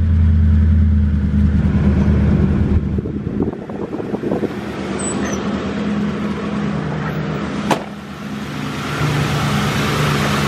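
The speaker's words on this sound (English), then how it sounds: "Fan is turning, not making any noise. AC compressor's moving." A Ford Crown Victoria idles steadily with its new radiator fan spinning and the AC compressor running, a continuous low engine hum with light wind noise and a brief click partway through.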